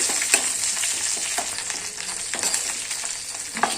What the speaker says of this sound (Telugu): పోపులు అయితే వేగుతున్నాయి